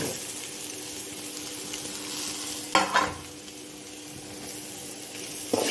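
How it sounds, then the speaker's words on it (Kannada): Grated coconut frying in a pan while being stirred, a soft continuous sizzle with a couple of louder scraping strokes of the spoon against the pan, close by, with a faint steady hum beneath and no speech. "ಇದು ಸ್ವಲ್ಪ ಫ್ರೈ ಆಗಲಿ."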